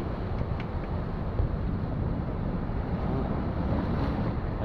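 Sea waves surge onto a rocky shore where people gather seafood, a constant broadband roar of surf mixed with wind buffeting the microphone, steady and fairly loud throughout with no voices.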